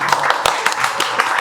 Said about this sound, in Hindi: तो उनके लिए थोड़ा तालियां हो जाए भाई।